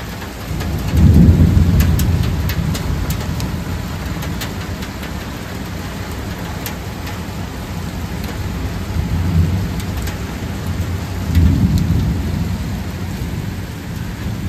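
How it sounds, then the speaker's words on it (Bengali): Monsoon downpour with thunder: a steady, dense roar of heavy rain drumming on surfaces, broken by deep rolling thunder that swells near the start, middle and end. "এখন পুরো মানে ঝমঝমিয়ে বৃষ্টি হচ্ছে। মেঘ তো ডাকছেই, তার সঙ্গে পুরো মুষলধারে বৃষ্টি।"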